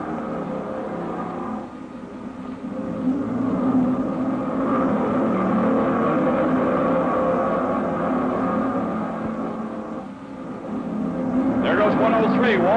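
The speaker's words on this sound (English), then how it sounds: "getting more of the motors started on this 30-second delayed interval start" Vintage motorcycle engines fire up and drone at the 1952 Catalina Grand National race start in downtown Avalon, a steady loud mechanical rumble with rising revs near the end while someone talks over it.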